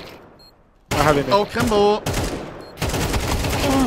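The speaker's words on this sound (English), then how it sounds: "Shooting and they're shooting again." Gunfire bursts in a tense Counter-Strike 2 match, where two pros take on twenty bots on the hardest difficulty. Loud, dense shooting comes in two long stretches, and excited players talk over it.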